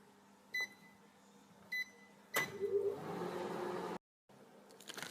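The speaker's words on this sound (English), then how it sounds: "put it in the noodle cooking microwave and let it melt" A microwave oven melts butter for packet brownies. Two short keypad beeps are followed by a sharper start tone. The oven then hums steadily for over a second before stopping abruptly, and faint kitchen noise follows.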